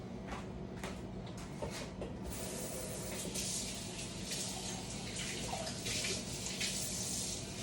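Water runs steadily from a tap into a small cup in a home kitchen while making hush puppies, a continuous close hiss and splash with faint clinks, no talking.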